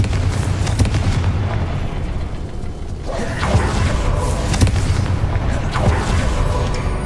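Confringo fire spell explosions in Hogwarts Legacy, loud rumbling booms and bursts rising over a continuous roar of game sound and music.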